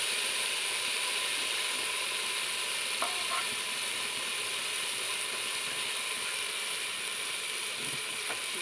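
Ginger garlic paste sizzles steadily in a hot pan as it goes in for a bitter gourd and masoor dal, a constant bright frying hiss with a few faint clinks and no talking.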